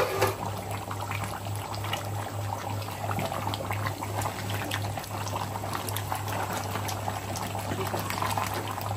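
Beef rezala curry simmering in a pot, a steady bubbling boil with occasional stirring scrapes, close and even throughout under a low constant hum.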